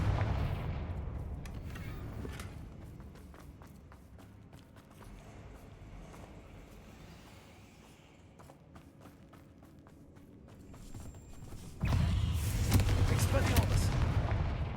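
Booming blasts from the Confringo fire spell in Hogwarts Legacy, a heavy rumble at the start that fades into quieter crackles, then a loud, dense explosive surge near the end, with combat noise and occasional voices.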